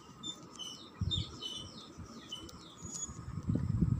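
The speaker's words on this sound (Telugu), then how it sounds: "బర్డ్స్ సౌండ్తో" Small birds chirp and tweet in quick, faint repeated phrases on a calm early-morning walk, set against quiet ambient hush with occasional soft rustles.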